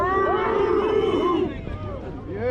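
A large protest crowd gathered at barricades roars and shouts together, a dense wall of raised voices and cries that stays loud and steady, then dips slightly before swelling again.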